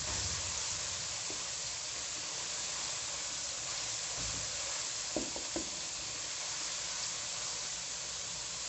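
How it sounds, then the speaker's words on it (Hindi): Beef karahi with whole cumin and karahi masala frying in a karahi, a steady close sizzle and hiss throughout, with a few soft clinks of stirring near the end. "कढ़ाई मसाला। और इसे हम 3 मिनट तक भूनेंगे।"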